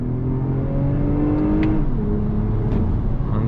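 A 2021 Toyota Avalon TRD with a catback exhaust accelerates hard in second gear, its close, loud engine and exhaust note climbing steadily in pitch before easing off near the end, with no talking.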